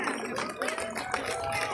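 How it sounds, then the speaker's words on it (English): Spectators at a school's annual sports event clap in a round of applause for a guest. The clapping is moderately loud and steady, with voices and a few tonal calls carrying over it. "Please give a round of applause for Sir Arvinus Nongbet."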